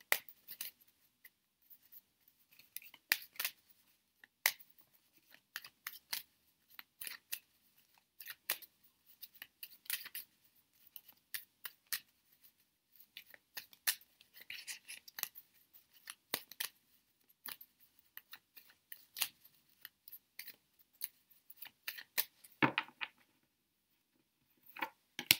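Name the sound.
shuffling tarot de Marseille cards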